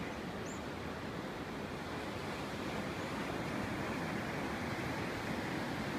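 Ocean waves washing onto a rock beach of smooth stones in Ireland, a steady, dense roar of surf and wind that fills the whole stretch with no speech.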